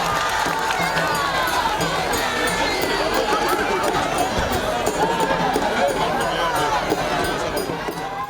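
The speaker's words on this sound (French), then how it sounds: "Les paroissiens acclament le retour de leur frère en Christ." Parishioners in Porto-Novo cheer and acclaim a returning fellow believer at an Epiphany 2018 church celebration, a dense continuous crowd roar of shouts and babble that stays loud and close throughout.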